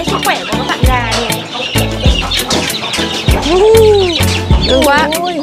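Chickens cluck and call loudly inside a clean coop during the rainy season, with overlapping bird calls, rising squawks and busy rhythmic clucking all around.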